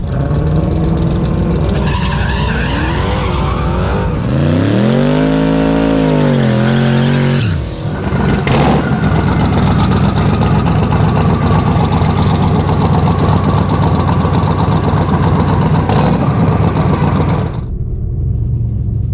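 A twin-turbo 6.0-liter LS Chevy engine in a Foxbody drag car, loud and close, roaring and rising in pitch through a hard run, a brief dip before surging again, then cutting off abruptly at the end.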